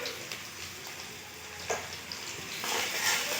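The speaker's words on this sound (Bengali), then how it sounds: "রসুন আর পেঁয়াজ ভালো করে ভেজে নেব" Onion and garlic sizzle steadily in hot oil for a mutton red curry, with a few soft stir clatters and a brief louder burst late on, no voices.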